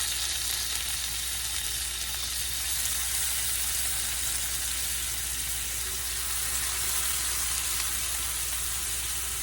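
Minced garlic sizzles in a hot pan with a steady, loud, continuous hiss throughout, with no talking.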